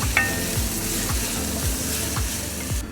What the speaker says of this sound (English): We'll get all of this in the Dutch oven and let these sweat through a little bit.